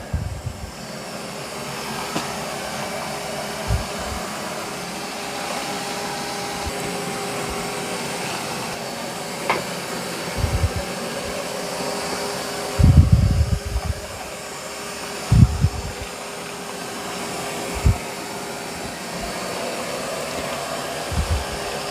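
A robot vacuum cleans carpet with its mop pad raised, producing a loud, steady whirring suction drone throughout with occasional bumps and thuds as it moves.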